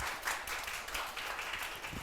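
An audience applauds a professor at a university talk concert, a quiet, even patter of many hands clapping at a distance for the whole stretch.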